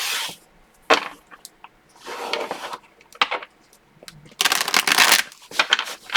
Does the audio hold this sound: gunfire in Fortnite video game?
no